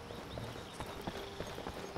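A horse's hooves clip-clop on the ground in the Skyrim video game, a steady, fairly quick walking rhythm of faint, distinct knocks over a soft outdoor ambience.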